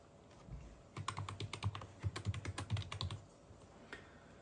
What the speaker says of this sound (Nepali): यसमा चाहिँ आफ्नो मोबाइल नम्बर टाइप गर्नु होला।